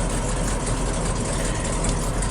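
A 1979 Chevy Cheyenne 20 Camper Special truck engine idles after sitting unused for years, a steady low rumble held at an even level with no talk over it.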